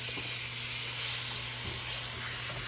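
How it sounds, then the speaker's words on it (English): Sliced bananas frying in a hot, bubbly pan of butter-sugar sauce for a New Orleans-style dessert, giving a steady, close sizzle and hiss with a faint hum beneath and no talk. "So now we're going to throw our bananas in there and let them cook."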